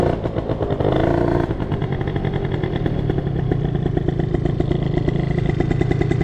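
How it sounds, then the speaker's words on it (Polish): Italjet Dragster scooter engine held at high, steady revs that won't drop back down, a loud, continuous buzzing drone right up close with a brief throttle swell near the start. "Trochę chyba za wysokie obroty ma, nie schodzi z tych obrotów"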